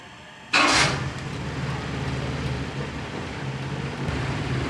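A car engine cranks and catches after a battery is hooked up on a cold winter day, an abrupt start followed by a steady idle that runs on alone.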